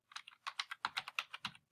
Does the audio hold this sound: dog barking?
no